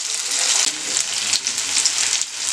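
Tuna fish frying in a pan: a loud, dense crackling sizzle that lasts the whole short stretch, alone with no voices.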